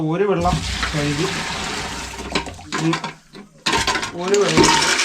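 Mussels being rinsed in water, with splashing and running tap water alongside intermittent clatter in a pot; a voice talks over the washing at the start and near the end.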